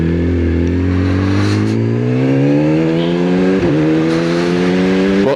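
A Yamaha R6 or Kawasaki ZX6R sport motorcycle engine revs loud and close, pitch climbing steadily as the bike accelerates through gears with a brief shift dip, no voices.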